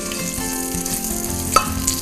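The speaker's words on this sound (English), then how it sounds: "we're just going to give that a light stir" Garam masala and ground jeera fry in a pan for a chickpea and butternut curry, sizzling softly under a light stir with a couple of small clinks, no talking.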